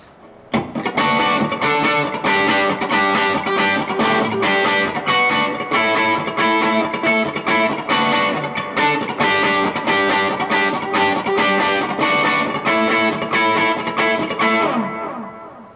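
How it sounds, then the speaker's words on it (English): Distorted electric guitar strumming steady, ringing inverted power chords in a driving rhythm for about fifteen seconds, loud and close, with the last chord left to fade. "we're just going to play an inverted version of the chords we've been playing already"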